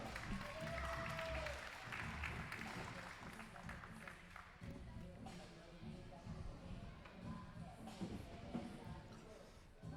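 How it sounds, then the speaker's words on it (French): Crowd applause for a young rider named Victor at an under-14 freestyle scooter final, a steady wash of clapping and cheering running under an announcer's continuous commentary. "applaudissements pour Victor"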